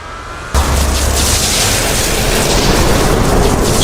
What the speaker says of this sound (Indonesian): Ledakan dahsyat layaknya gempa bumi mengguncang seluruh alam Gu.